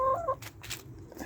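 A cockerel and hens cluck at close range near a cabin, with a few short tonal calls at the start followed by soft, scattered scratchy clucks.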